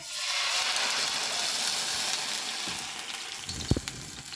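Pea filling with ginger and green chili paste for kachori fries in a wok with a steady, dense sizzle and hiss, close by, with a few soft stirring knocks near the end.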